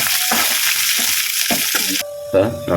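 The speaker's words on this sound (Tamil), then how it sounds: "அடுத்து கருவேப்பிலை சேர்த்துக்கலாம் அடுத்து வரமிளகா நல்லா பொன்னிறமாக வதக்கிக்கலாம்" Curry leaves and dried red chillies sautéing in hot oil for lemon rice, a steady broadband sizzle with crackling bursts, close and fairly loud, dropping briefly before a sharper spurt near the end.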